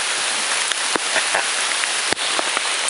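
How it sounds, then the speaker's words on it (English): Rain pours steadily onto surfaces along the Appalachian Trail during an afternoon shower, a dense constant hiss with a few louder drips and taps, close and enveloping, no talking. "it's been raining every afternoon"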